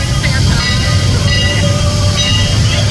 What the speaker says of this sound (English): They stopped just as 89 was running around the train.